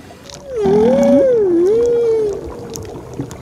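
A single long, sliding whale call, rising and falling in pitch like a moaning song, with faint water noise around it.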